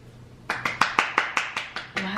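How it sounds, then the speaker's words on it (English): Hands clap eight times in an even, fairly quick rhythm, close and crisp, after a quiet lead-in with low background hum. "Why are you clapping?"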